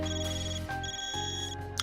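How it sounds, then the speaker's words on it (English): An in-game Zypha communicator rings in Trails Beyond the Horizon, a steady electronic ringtone of layered tones pulsing in short repeating bursts, close and clear with no talk. "Man, your Zypha's ringing."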